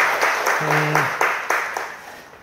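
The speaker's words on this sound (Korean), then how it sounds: "우리 박수 한번 합시다." Applause from a church audience at a talk show, a short burst of clapping with a brief voice tone partway through, fairly close and moderately loud.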